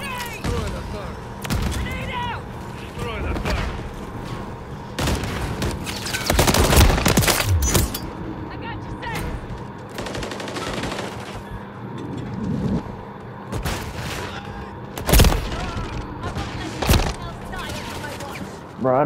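Heavy gunfire in a Call of Duty: Modern Warfare 3 Juggernaut match on the Rust map, with sustained automatic bursts and loud single cracks, a player talking over much of it.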